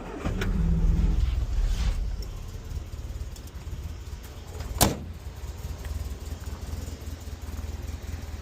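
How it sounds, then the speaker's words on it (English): A Mk3 Ford Escort Bantam bakkie, a small pickup with a carburettor needing adjustment, starts and settles into a steady idle, with a loud rumble at first, a sharp click partway through, then an even running drone. "Starts no bother."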